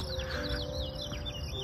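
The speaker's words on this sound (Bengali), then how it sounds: "আর পাখিগুলোর কিচিরমিচির শুনুন" Small birds chirp and tweet in quick, repeated trills along a green shortcut path on a morning walk. The calls are fairly faint and distant over a low outdoor hum.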